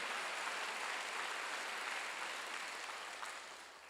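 Congregation at a Wednesday service of a Korean church claps in response to the pastor, a steady, soft, even wash of many hands that tapers slightly at the end.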